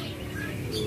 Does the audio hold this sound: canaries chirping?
yes